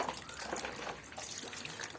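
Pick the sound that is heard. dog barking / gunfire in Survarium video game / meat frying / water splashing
water splashing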